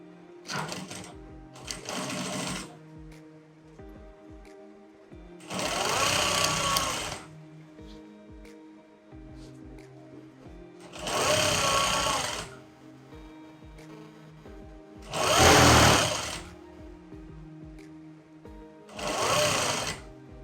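A sewing machine stitches a skirt in several loud bursts of running, each lasting a second or two, separated by quieter pauses with handling noise and no talk.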